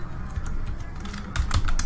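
Keys clacking on a computer keyboard during an After Effects tutorial, a quick irregular run of close, crisp taps that grows denser toward the end.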